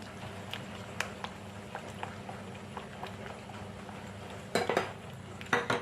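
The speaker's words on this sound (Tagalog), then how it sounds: "kailangan ihaluin natin ito para walang buhol-buhol" Fresh milk is stirred into ube pandan puto batter in a bowl, a faint steady clinking of utensil against the bowl, with louder scraping knocks near the end.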